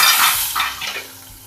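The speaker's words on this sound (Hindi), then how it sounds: "बस मैं इसमें ऊपर से थोड़ा सा घी का तड़का डाल के" Hot ghee tempering with cumin poured over baingan bharta sizzles in a few loud, hissing bursts with faint utensil clinks, then fades quickly.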